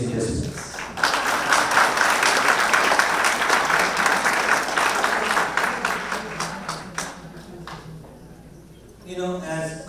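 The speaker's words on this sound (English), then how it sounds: "the biggest round of applause to all the organizers for choosing this place" An audience at a Lions Club district convention gives a sustained round of applause, a dense, loud clapping that fades over several seconds before a voice returns at the end.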